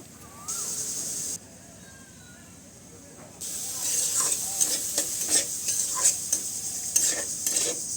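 Masoor dal sautéing with spices in a pan gives a steady, bright sizzle, broken by repeated scraping strokes of a spoon stirring the mixture close by.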